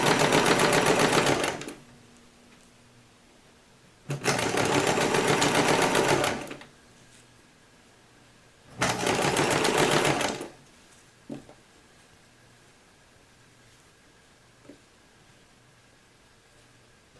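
Sewing machine stitching fabric for sculpted costume animal feet, running in three loud bursts of about two seconds each, separated by quiet pauses with faint handling clicks.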